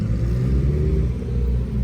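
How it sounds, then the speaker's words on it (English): Ferrari 458 fitted with a loud aftermarket exhaust and air suspension, rolling up with a deep, steady engine rumble that stays close and even throughout, no voices over it. "So Austin and Alu just showed up in the 458 with a crazy exhaust on it"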